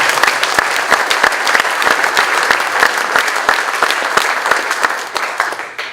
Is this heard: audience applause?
yes